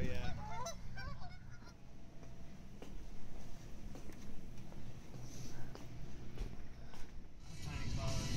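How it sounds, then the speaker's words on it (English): Geese and ducks honking and calling at a college campus in winter, several bursts of honks near the start and scattered later, with people talking nearby and steady outdoor background noise. "Oh, these are ducks. Geese and ducks."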